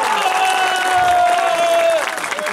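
Audience applause at a medieval harvest festival in Mojín, Slovakia, steady dense clapping from a crowd filling the whole moment, with a sustained tone running through it.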